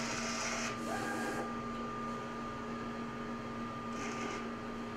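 McLogan Gecko vinyl cutter feeding material through its pinch rollers, a steady motorized hum with whirring bursts as the roll advances, fairly quiet and continuous.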